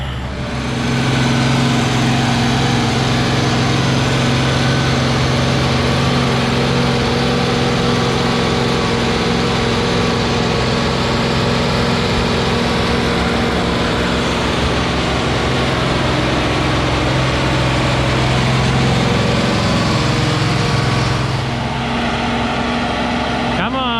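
An IH 1486 tractor pulls a chisel plow, its engine droning loud and steady throughout with a deep low rumble, shifting briefly near the end as it labors through a turn.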